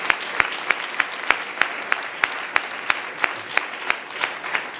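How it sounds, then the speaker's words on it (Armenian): Applause for a performer named Aghavni comes as a sharp, evenly timed clapping. It is close and fairly loud, with a thin crowd murmur beneath. "Ծափալ ենք աղավնին։"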